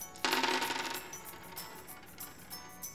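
Dice from the High Score dice game clatter as they are rolled, a bright rattling burst near the start that dies away into a few scattered light clicks; close and fairly quiet, with no voices.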